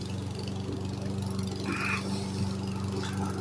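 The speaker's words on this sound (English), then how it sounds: "Guy over there mowing." A lawn mower runs steadily a short way off beside an old abandoned machine and iron works, its low engine drone constant throughout with a brief brighter noise midway.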